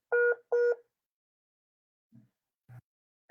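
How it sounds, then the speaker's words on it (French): Telephone keypad tones sound as a number is dialed to call someone back: two loud, clear beeps in quick succession, then fainter, lower blips after a pause, with no talking. "Je vais la rappeler."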